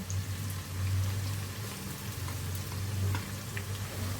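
Onions dropped into hot oil left from frying tilapia sizzle with a continuous, fairly loud crackling hiss, steady and close, with no voices.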